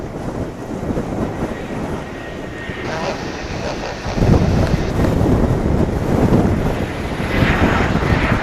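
Jet airliner departing DFW Airport on a flight to Heathrow, a broad roaring rumble that swells partway through, heard at a distance through heavy wind buffeting on the microphone.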